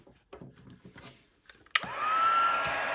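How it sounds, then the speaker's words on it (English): A heat tool used on Christmas card making switches on abruptly after some quiet handling noises, then blows with a steady, loud rushing hiss and a faint rising whine that holds to the end. "And with a heat tool"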